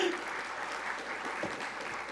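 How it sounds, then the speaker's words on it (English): Brief applause from a workshop audience at the close of a panel session, a steady wash of clapping from a modest crowd in a room, moderately loud and fading slightly toward the end. "feel free to applaud."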